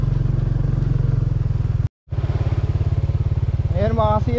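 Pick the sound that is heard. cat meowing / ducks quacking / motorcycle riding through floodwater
motorcycle riding through floodwater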